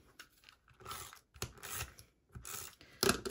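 Scissors cut through paper card extras for a handmade pop-up Christmas card, producing three or four quiet, close snipping and rustling strokes with short pauses between.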